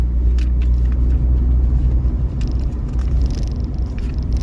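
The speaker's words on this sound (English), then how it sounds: "listen to that 16 valve, sing along and enjoy it" Mk2 VW Golf GTI 16-valve engine while driving, a close steady low rumble and purr with continuous road roar and small surges in throttle throughout.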